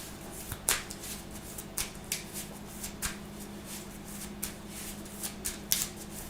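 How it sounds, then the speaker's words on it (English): Deck of game cards for the Marvel Champions card game being shuffled, a steady series of crisp riffling bursts repeating about every half second, close and alone. "Shuffling out in front of the camera."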